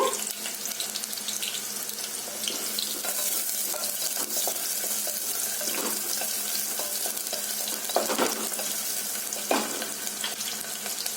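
Chopped onion fries in hot oil for an egg curry, filling the space with a loud, dense, continuous hiss broken by scraping strokes of a spoon stirring the pan.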